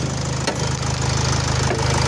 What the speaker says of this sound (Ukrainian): Це так моторчик робить